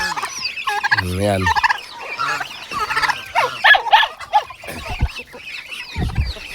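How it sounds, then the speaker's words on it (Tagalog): Turkeys gobble loudly in a farmyard at feeding time, a rapid rattling gobble up close followed by more calls mixed with clucking from other fowl, with someone talking briefly between them. "Yan ang tarki."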